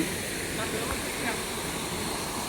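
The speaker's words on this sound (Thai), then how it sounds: "ถึงแล้ว น้ำตก ไม่เคยสูงนะคะแต่ว่ามันธรรมชาติไง" A small natural waterfall in a forest rushes continuously as a steady, broad wash of falling water, fairly close and even in loudness.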